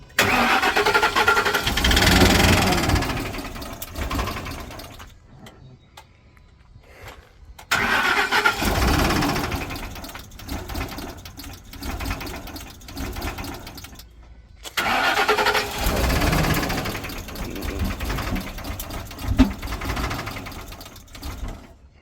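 A Ford F350 with a 6.2 diesel and a slight knock cranks and roars to life after a jump-start. Three loud engine bursts are split by short pauses, close and with no talk.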